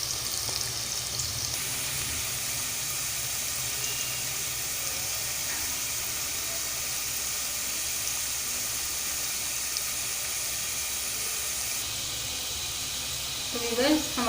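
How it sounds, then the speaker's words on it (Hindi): Onions frying in a kadhai (wok) while making aloo pulao, a steady close sizzle and hiss throughout with a brief clatter near the end. "प्याज को हमने कढ़ाई के अंदर डाल दिया है। अब हम प्याज को उस वक्त तक भूनेंगे"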